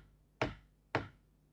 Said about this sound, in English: He walked and he walked right up to the castle door and knocked.